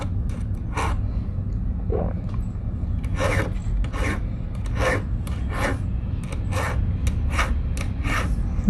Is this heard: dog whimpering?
no